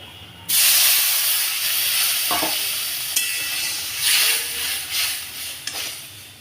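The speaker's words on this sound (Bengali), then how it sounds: "সুজিটা একটু নেড়ে চেড়ে ভেজে নিয়ে জল দিয়ে দেব।" Water poured onto semolina roasting in a hot pan sets off a sudden, loud burst of hissing steam. The hiss slowly fades as stirring scrapes continue close by, with no talking.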